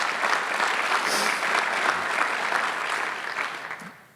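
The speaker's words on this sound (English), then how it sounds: "Let's give them a nice round of applause." Applause from an audience at a career center ceremony: a dense, steady clatter of many hands clapping that holds loud for several seconds, then fades out toward the end, with faint voices underneath.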